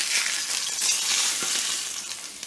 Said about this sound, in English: Before I flip it, I'm going to sear off this fat cap here for about a minute.